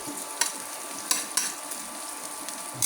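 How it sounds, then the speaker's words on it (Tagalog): Garlic and ginger sautéing in a pan, a soft continuous sizzle with a few sharp stirring clicks and scrapes, close but fairly quiet. "Igisa ko na ang bawang at luya."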